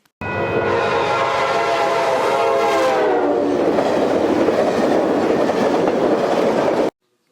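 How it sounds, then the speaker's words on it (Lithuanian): A 1700 kW diesel locomotive, loud and close, with a steady heavy rumble and a long horn-like tonal blast sounding over the engine for several seconds before settling into continuous roaring drive noise that cuts off abruptly. "Tūkstančio 700 kW galios variklis."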